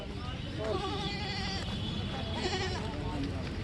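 Wavering bleats from a male goat at a goat market in Faridkot, two drawn-out calls about a second apart, over a background of crowd chatter and murmuring voices.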